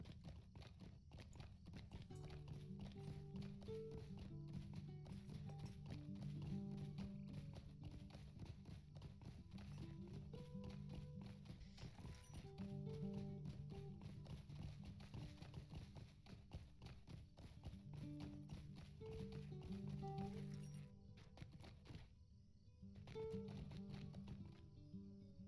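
Horse hooves clip-clop steadily in Lord of the Rings Online, a continuous walking rhythm heard alongside game music for about twenty-five seconds, with a brief dip near the end.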